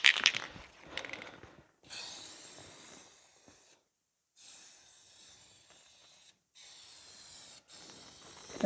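Aluminum spray paint hisses from an aerosol can in several bursts separated by short pauses while coating a rusty lawn mower deck, the steady close spray starting and stopping four or five times.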